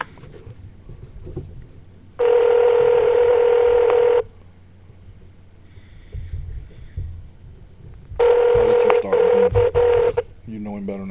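A phone call is placed: a long steady tone plays for about two seconds, then after a pause a second tone burst sounds, loud and close, with quiet background noise between.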